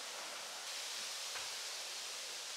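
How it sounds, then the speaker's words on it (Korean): On a chilly, breezy day outdoors near a pool, wind sweeps through tree leaves in a steady, soft, hissing rustle, constant and unbroken throughout. "나뭇잎 소리랑 너무 좋다"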